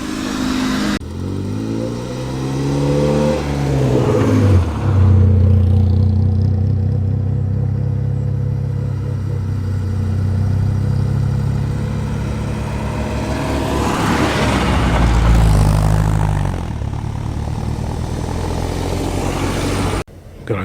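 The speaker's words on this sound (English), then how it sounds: "this Rover 800 is heading off to, followed by the Fiat Cinquecento and an E36 BMW 3 Series" A Rover 800, a Fiat Cinquecento and an E36 BMW 3 Series pull away at a show of ordinary everyday cars, with steady engine drone and rising revs close by, mixed with outdoor crowd noise.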